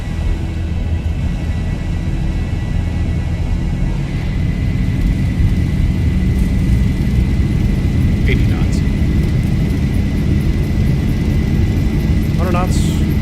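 Airliner jet engines spooling up to takeoff thrust on the runway at Washington's KDCA, a loud, steady roar and rumble building under cockpit talk, with faint tonal chirps near the end.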